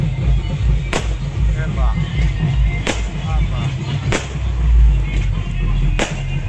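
Sharp fireworks bangs pop at irregular intervals, about five distinct cracks, over a loud crowd murmur and background music at a village wedding procession in Chhattisgarh.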